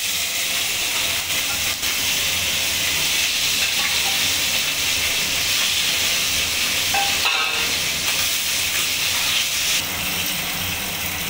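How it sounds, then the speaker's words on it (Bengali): Hilsa fish heads fry in hot oil in a kadai, giving a loud, continuous sizzling hiss that holds steady throughout with no voices. "ইলিশ মাছের মাথাগুলো এবার আমি কড়াইতে দিয়ে ভালো করে ভেজে নেব।"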